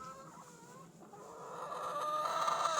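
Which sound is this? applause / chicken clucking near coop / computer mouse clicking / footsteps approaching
chicken clucking near coop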